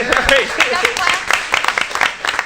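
Board of Education meeting audience gives a short round of applause, light scattered clapping from a room crowd mixed with talking voices over the brief moment.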